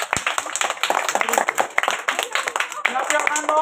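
A group claps hands at a Teachers' Day gathering, with quick, uneven claps mixed in under a voice speaking.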